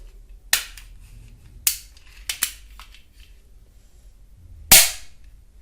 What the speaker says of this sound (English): now we see how to lock this pistol.